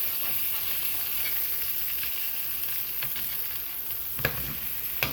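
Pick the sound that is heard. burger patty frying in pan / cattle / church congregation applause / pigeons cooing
burger patty frying in pan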